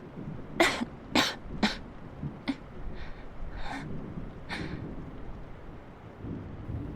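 A woman coughs in a run of sharp bursts, three close together and then several more spaced out, fairly near and alone with no talk.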